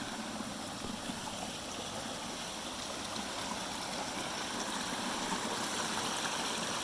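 Small waterfalls and a trickling stream in a wooded patch of land run as a steady, even rush of water, close and continuous throughout with no voices.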